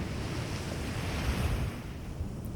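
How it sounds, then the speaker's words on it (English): Ocean waves breaking on a seashore make a continuous, loud rush of surf with wind noise blowing across the microphone. No voices are heard. "The waves are creating an endless rhythm, a song of constancy and change."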